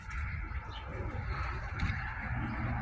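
Tippler pigeon cooing at close range, soft low throaty coos repeating over a steady rumbling background for a few seconds.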